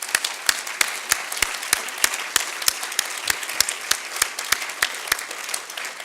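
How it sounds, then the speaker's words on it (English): An audience at a public talk applauds the event volunteers, a steady wash of many hands clapping with a few sharp individual claps standing out, no speech over it. "give them a round of applause yesterday, but do it again, please."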